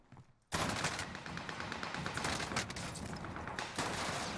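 Automatic gunfire rattles out in the video game Warzone Rebirth, starting abruptly after a short quiet moment and continuing as sustained rapid bursts with a few sharper shot peaks.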